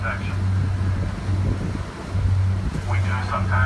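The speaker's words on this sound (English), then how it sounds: "on a real windy day like this" Strong wind buffeting outdoors on a blustery day, low roaring rumble and microphone gusts that swell and ease continuously, with a person talking over it.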